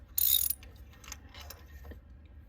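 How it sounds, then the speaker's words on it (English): A hand ratchet clicks briefly while a spark plug is loosened on a Lincoln MKZ, with a sharp burst of rapid pawl clicks followed by a few quieter mechanical clicks. "We'll remove it with a ratchet."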